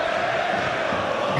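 A football stadium crowd at a Premier League match between Manchester United and Portsmouth roars in a loud, steady wash of cheering that holds at full volume throughout.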